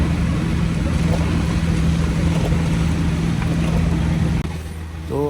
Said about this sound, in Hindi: जो गाड़ी का ज़ोर लग रहा है वो भी अभी मैं आपको सुनाता हूँ